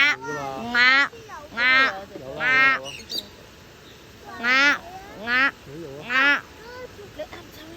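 A common shelduck calls in Hong Kong Park, giving a series of loud, nasal, harmonic calls in short bursts about a second apart, with a quieter pause in the middle of the run.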